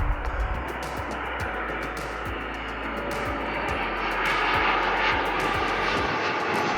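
A Lufthansa airliner approaches runway 15L at Seoul Incheon airport with a steady engine roar that swells slightly toward the end, heard from a distance without talk.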